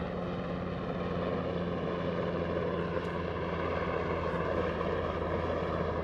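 A continuous low helicopter rotor-and-engine drone fills the scene overhead at Perranporth, Cornwall, steady and fairly loud, holding an even rumble with no pauses or other sounds.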